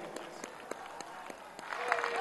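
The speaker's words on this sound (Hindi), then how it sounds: "तालियों से स्वागत कीजिए" Faint, scattered clapping at a public event welcoming the Prime Minister at Victoria Memorial, Kolkata, building into light applause toward the end under a background voice.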